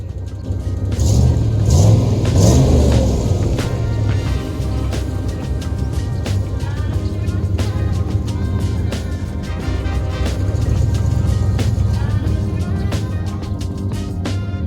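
A DIY tiny home on wheels rolls down the road with its engine droning steadily, loud low hum and rattling, clanking of the cabin and fittings over the road for the whole stretch.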